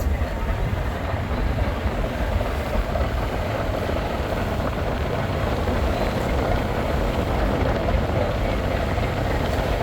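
The engine of the Bangladeshi passenger launch Adventure-9 drones loud and steady while it overtakes another launch near Nolburia ghat on the Barishal route, a constant broadband rumble with no breaks.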